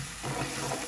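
Spices, including salt, turmeric, coriander, chili and curry powder, frying with onions and tomatoes for kidney bean dhal, a brief close burst of steady sizzling as they are stirred.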